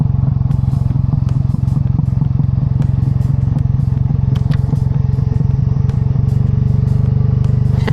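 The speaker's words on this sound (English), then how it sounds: "if you hear the exhaust on this thing, it's way louder" A motorized bicycle's small engine runs loud and steady close by on a Kansas City street ride, its rapid putter of exhaust pulses continuous, with scattered clicks and rattles over it.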